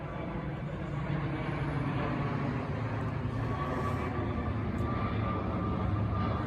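An airplane dumping fuel in flight, heard as a steady broadband roar of engine and rushing air that holds constant throughout, moderately loud with no talk.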